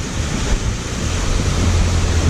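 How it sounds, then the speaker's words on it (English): Steady roar of a waterfall outside Saphale village, a constant broadband rush of falling water with some wind buffeting the microphone, close and unbroken. "there's a waterfall out here."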